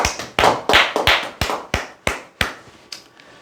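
A small audience in a Korean insurance telemarketing seminar claps in a short round of about nine separate, sharp claps, loud and close, spaced unevenly and tapering off near the end, with no voices.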